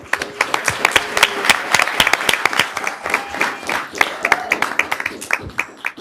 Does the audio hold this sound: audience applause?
yes